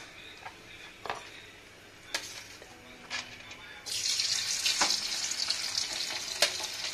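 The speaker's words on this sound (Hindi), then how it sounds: "आलू को मैं तेज आंच पे ही फ्राई करूंगी क्योंकि ये बॉयल है, तुरंत ही फ्राई हो जाएंगे।" Boiled potatoes and urad dal badi frying in hot oil in a kadhai, with a soft sizzle, occasional stirring clinks and a louder surge of crackling partway through.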